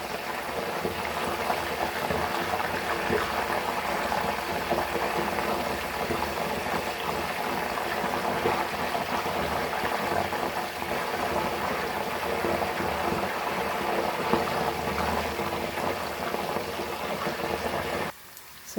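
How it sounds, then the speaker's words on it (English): Raw banana chips sizzle steadily in hot oil over a low flame, a dense, even crackle that runs unbroken for the whole stretch before cutting off abruptly at the very end. "So if you see, it's still frying, and it is again on low flame only."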